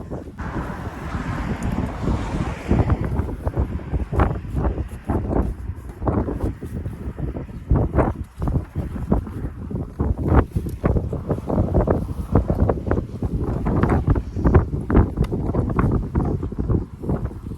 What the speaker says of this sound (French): Il y a un vent de ouf en plus.